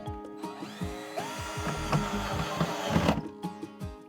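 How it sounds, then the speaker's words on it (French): Screws are driven into pre-drilled holes in a wooden shelf with a power screwdriver: short, stuttering whirring bursts with clicks and creaks, close and moderately loud, and no talking. "Et je vais pouvoir mettre les vis dans les 4 trous que j'ai fait sur mon étagère."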